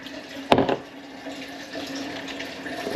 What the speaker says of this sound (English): We're going to dump that water.